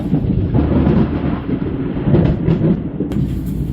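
Thunder rolls through a heavy storm as a loud, continuous low rumble with no break, and no voices are heard.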